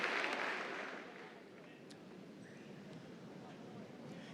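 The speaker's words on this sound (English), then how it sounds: "let's give all of your supporters a big round of applause" A large audience at a high school commencement ceremony applauds the graduates' supporters, a steady wash of many hands clapping that starts loudest, eases after the first second and continues at a lower, even level.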